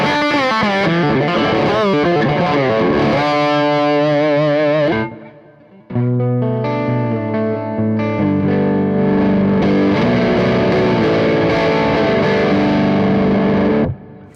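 An electric guitar plays through a Satellite Elmer tube amp fitted with 6AQ5 output tubes, giving loud, distorted chords and sustained notes with a brief pause midway, then more heavy chording that stops abruptly.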